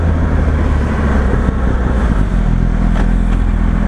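Yamaha R1 sport motorcycle ridden through Sydney traffic, its engine a steady, loud, close drone with constant wind rush and no talk.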